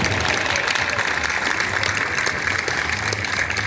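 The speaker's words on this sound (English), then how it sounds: "Let's give these first responders a big round of applause." Outdoor crowd applauding first responders at a Tunnel to Towers 5K run and walk in downtown Columbia, South Carolina, a steady, dense wash of clapping that holds evenly throughout, with a low rumble underneath.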